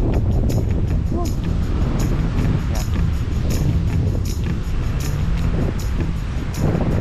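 Steady, loud wind roar buffets the microphone during a bike ride, a constant rushing with low rumble and occasional gusty swells, no clear talking.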